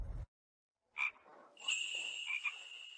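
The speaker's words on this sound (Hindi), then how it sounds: "मेंढक की आवाज लग रही है।" Frog croaking near a dried-up riverbed, a few short croaks then a sustained raspy call, fairly close against an otherwise quiet background.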